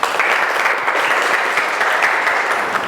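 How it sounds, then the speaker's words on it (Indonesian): Audience applause at a career guidance session: dense, even clapping from a crowd, loud and close, sustained for the whole stretch without a break. "Kita berikan tepuk tangan."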